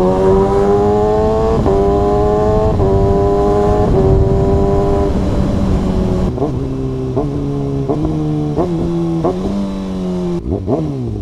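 A Kawasaki ZX6R sport motorcycle with a quick shifter on a countryside ride, its loud, close engine rising through the gears with rapid upshifts and rev-matched downshifts in a continuous stepped pattern.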